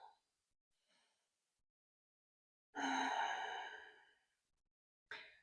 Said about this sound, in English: we're going to take a few breaths here.